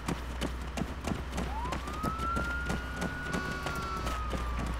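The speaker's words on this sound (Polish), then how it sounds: "słychać policję już" A police siren in the ARMA III game rises into a long wail in the middle distance, sounding over a steady low engine drone and a regular clopping rhythm that runs throughout.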